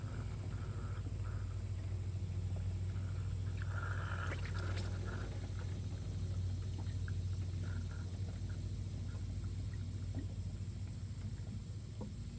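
Water is poured steadily into the cooling system of a 2006 Toyota Highlander with a 3.3-litre engine and a leaking water pump, a continuous low rushing pour heard up close throughout.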